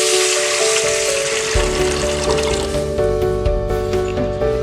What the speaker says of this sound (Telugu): కొద్దిగా మంట తగ్గించుకొని దాంట్లో కొంచెం వాటర్ పోసుకుందాం